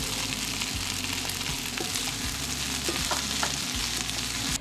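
Cherry tomatoes and baked kabocha squash fry with curry powder in a pan, giving a steady close hiss and crackle broken by a few soft knocks of stirring, with no voices.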